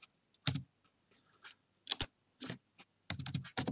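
Computer keyboard keys and mouse buttons during setup work in Lightburn laser software, a few quick close clicks and short typing bursts with quiet pauses between them.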